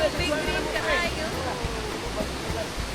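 River water at Gudoy River Park rushes steadily in a constant, broad wash, and faint voices are heard underneath.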